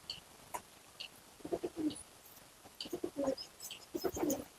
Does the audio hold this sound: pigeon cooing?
yes